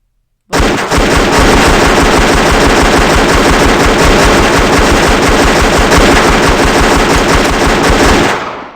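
Sustained automatic gunfire from the video game CrimeLife 3, a loud continuous rapid burst of shots lasting about eight seconds before cutting off, with no talking.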